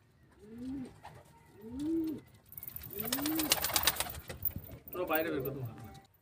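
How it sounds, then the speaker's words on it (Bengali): Male Giribaz high-flying pigeons in a loft give three distinct rising-falling coos, then a burst of wing-flapping and scuffling followed by more cooing, heard close with no talk. "তো দেখে নাও বন্ধুরা, এখানে একটা নর পায়রা আছে গিরিবাজের।"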